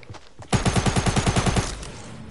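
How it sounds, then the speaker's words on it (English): Video game gunfire, a rapid burst of about a dozen evenly spaced, loud automatic shots from a suppressed assault rifle, followed by a brief fading echo. "Somebody's shooting me."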